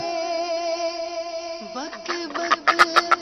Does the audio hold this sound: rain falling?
no